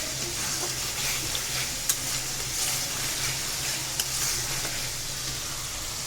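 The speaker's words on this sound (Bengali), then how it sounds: "আর এদিকে আমি মশলাগুলো কষাই নিতেছি" Spices frying and being stirred in a pan while cooking a prawn dish, a steady close sizzle with occasional scraping of the spoon, no talk.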